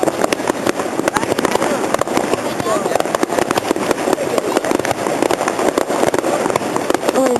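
Tet 2011 fireworks display, a continuous barrage of sharp crackling bursts and pops, loud and dense throughout, with people talking and exclaiming over it.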